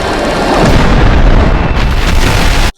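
Loud, roaring explosion of an ice torpedo in an Avatar: The Last Airbender naval battle, a dense sustained blast lasting a couple of seconds before cutting off abruptly, no talk.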